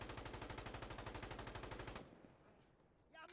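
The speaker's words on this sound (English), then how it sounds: "So M249, we're going to start with the regular reload speed" Rapid M249 machine gun fire in a video game, a loud, steady burst of evenly spaced shots lasting about two seconds before cutting off into quiet room tone and a faint click.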